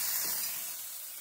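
Spicy chicken wings cooking on a hot surface, a close, bright hiss of sizzling fat that stays steady and slowly eases off over a brief moment.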